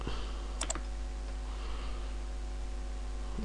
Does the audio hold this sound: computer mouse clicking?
yes